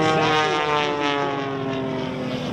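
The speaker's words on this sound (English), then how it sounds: "the high-performance, purpose-built airplane" A USAF F-16 Viper fighter jet roars past at an air show demonstration, a loud, continuous engine rush with a slowly shifting pitch, close and dominant.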